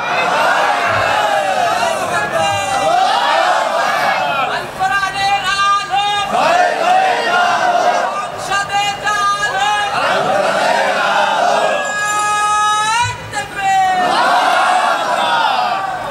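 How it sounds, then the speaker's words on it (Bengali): At a religious gathering in Khulna, a large crowd chants slogans in loud, rhythmic unison. Repeated call-and-response bursts of massed voices swell and fade across the clip. "দুহাত উঁচু করে স্লোগান দিয়ে আল্লাহকে দেখান"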